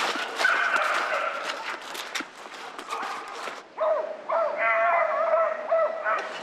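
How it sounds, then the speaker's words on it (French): Pack of Fauve de Bretagne hunting dogs baying and yelping on a rabbit's trail, a dense run of overlapping barks and cries at moderate distance, rising in a bunch of excited voices after a brief lull. "Vous attendez qu'un vieux chien crie pour être sûr."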